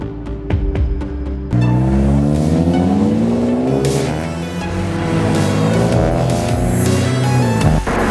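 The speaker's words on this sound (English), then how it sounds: "street racing." Cars and trucks street racing at an Ohio truck meet: a few sharp clicks, then a loud close engine revs hard and climbs through the gears with tire squeal, the roar steady and strong throughout.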